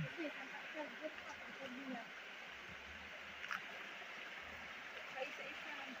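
A stream flows steadily in a continuous, close wash of rushing water, and voices talk over it now and then.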